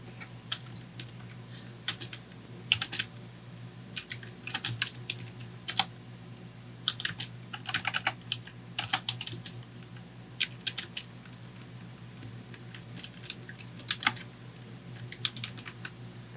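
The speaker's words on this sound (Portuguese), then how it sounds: "Deixa eu digitar aqui, pra gente entender." Steady typing on a computer keyboard, quick irregular bursts of key clicks with short pauses, close and fairly quiet with no talking.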